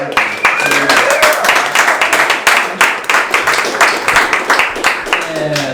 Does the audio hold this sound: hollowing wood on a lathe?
no